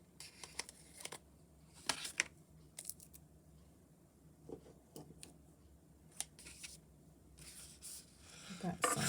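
Scissors trim white edges off a small handmade paper booklet for a junk journal, making scattered quiet snips and paper rustles with pauses between cuts, close by and soft.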